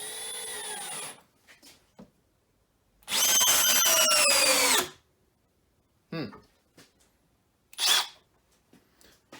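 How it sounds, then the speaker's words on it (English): Milwaukee Fuel Gen 2 12V brushless drill running at 1700 RPM on speed 2, a loud whining burst of about two seconds, preceded and followed by brief handling clicks and short spurts. "Let's try the Milwaukee. Speed number 2, 1700 RPM as well."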